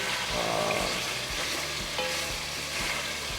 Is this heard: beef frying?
yes